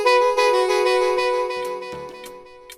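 Sustained bright synth tone run through the KiloHearts Toolbox delay plugin at 1/8 sync, with echoes repeating and trailing off as the tone fades, close and fairly loud with no voices.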